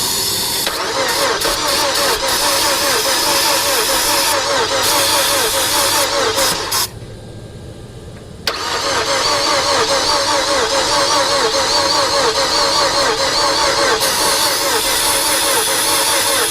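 A Mazda 6 engine cranks and fires, running loudly for several seconds, cutting out briefly, then restarting and running steadily close by, with people talking around it.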